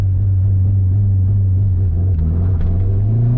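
Acura RSX on a two-step launch limiter in gear, a steady loud low engine drone held throughout with slight tire spin, no talk.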